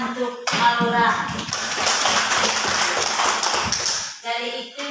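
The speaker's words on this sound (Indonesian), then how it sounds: "Ya, tepuk tangan untuk Aura." Schoolchildren in an Indonesian primary classroom clap for a classmate, a dense burst of rapid claps lasting several seconds, with voices just before and after.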